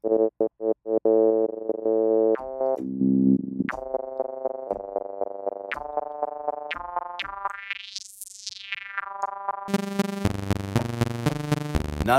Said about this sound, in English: Now I can just scroll with the wheel. To try all the different LFO shapes.